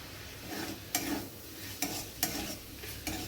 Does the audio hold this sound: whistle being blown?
no